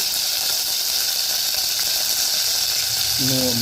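Mustard seeds, chana dal and urad dal sizzle and crackle in hot ghee, a steady bright hiss with a faint voice briefly at the end.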